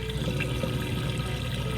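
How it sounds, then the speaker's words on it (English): A Samsung washing machine drains its water in a steady, continuous rushing gurgle, like a flushing toilet, with no speech. "our washer is draining that water out now"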